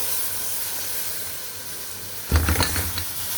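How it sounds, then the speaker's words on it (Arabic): Flour sizzles in hot ghee in a large pan for béchamel, a steady soft hiss, then a brief louder burst of scraping and stirring with a few clinks against the pan. "نقلبها تقلبتين كده، نطلع الرطوبه بتاعت الدقيق"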